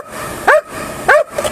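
A police dog barks twice at a chase scene, two sharp, loud, close barks spaced about half a second apart, with no talk between them.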